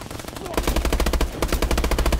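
Rapid bursts of automatic gunfire crackle in the Conker: Live & Reloaded video game, starting after a short pause and then hammering on in dense, fast repeating volleys with a brief break partway through.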